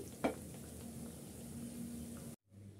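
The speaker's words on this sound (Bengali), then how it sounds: "এগুলো সব আমি গোল্ডেন ব্রাউন করে ভেজে নিচ্ছি।" Raw banana snack pieces frying golden brown in oil, a soft, faint continuous sizzle with a single brief clink near the start, cutting off abruptly before the end.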